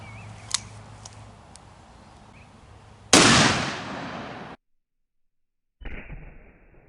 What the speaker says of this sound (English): now we got this 1/4 ounce 410 slug here, Winchester Super X.